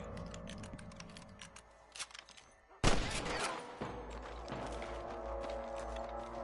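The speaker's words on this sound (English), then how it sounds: "I can hear more gunshots." Rapid bursts of Red Dead Redemption gunfire crackle continuously, with a loud volley partway through and steady mechanical clatter behind it.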